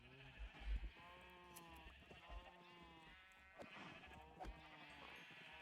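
Sheep bleating in the Minecraft video game, several drawn-out wavering bleats in a row, fairly quiet and clear with no talking over them.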